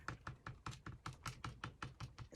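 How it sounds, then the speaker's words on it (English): A Posca paint pen tapped on paper in a quick, even series of about a dozen light, close taps. "tap it on paper until it comes out."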